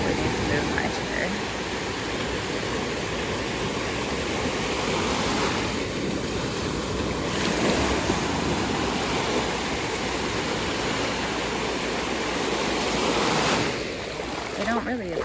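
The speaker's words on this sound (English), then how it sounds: "Here come the giant waves, and I probably need to move my chair." Ocean waves break near the shore beside a beach chair, a loud continuous roar of surf with surges swelling and easing over several seconds; a voice may be faintly present.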